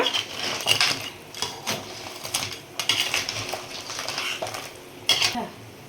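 Metal spoon scrapes and clinks against a pot of crab curry in irregular strokes, with a faint sizzle of food cooking underneath.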